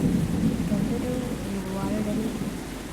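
Continuous rainfall hisses evenly for three seconds, with a faint murmur of a voice running low underneath.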